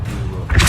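A Depulso push spell strikes in Hogwarts Legacy on PS4 Pro, landing as a low, dull thump that swells into a heavier boom near the end of the short burst.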